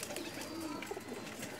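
Golden pigeon being handled, soft low cooing in short bursts under faint background noise, close and quiet.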